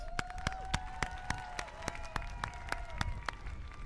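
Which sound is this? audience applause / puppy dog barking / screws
audience applause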